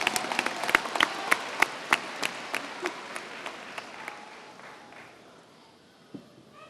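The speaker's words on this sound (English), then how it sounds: "Please join me in giving our scholarship winners a big round of applause" Graduation audience at a high school ceremony applauding scholarship winners: sharp individual claps that thin out and fade over several seconds, ending in near quiet with one last stray clap.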